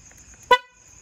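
A single short, loud horn blast sounds nearby, a brief bright honk against near silence.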